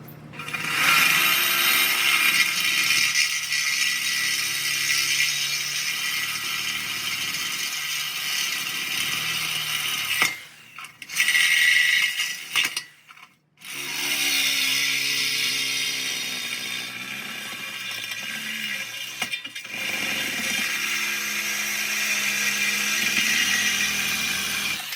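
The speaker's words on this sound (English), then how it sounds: "we're gonna get set up to cut it." A power saw cuts a metal truck tool box spacer, a loud steady whirring grind that runs for long stretches, breaking off briefly twice before resuming.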